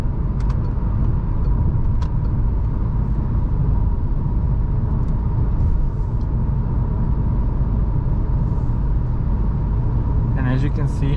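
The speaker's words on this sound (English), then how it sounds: "at 100 kilometers, very quiet for a small car, and 2000 RPMs" Steady low engine and road rumble of a 2021 Citroen C3 with a PureTech 110 HP engine cruising at 100 km/h and 2000 RPM, constant and close, with brief voice sounds near the end.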